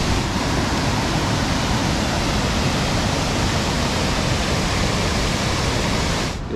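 Wide waterfall on the river in Kuldīga, Latvia, a dense, steady roar of falling water heard close and loud, unbroken from start to finish.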